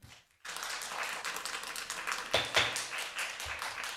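An audience at a city plan commission public meeting breaks into dense, continuous clapping after a short silence, moderately loud and steady for several seconds in a hall.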